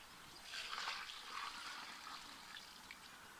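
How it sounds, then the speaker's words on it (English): Water trickles and pours onto the roots of garden plants, a soft continuous splashing stream, fairly quiet and heard alone. "we'll make sure we get plenty of water down to the roots on these"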